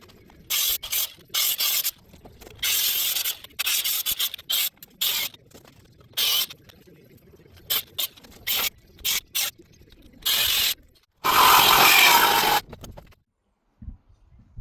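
Metal frame brackets being cut off a 1987 Polaris Cyclone 250X ATV frame: loud, harsh bursts of cutting start and stop in an uneven rhythm, ending with one long sustained cut, and no one speaks.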